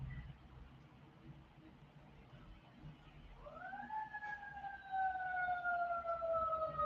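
A distant ambulance siren approaches, its wail rising in pitch and then holding a steady, slowly sinking tone that grows louder, with no talking over it.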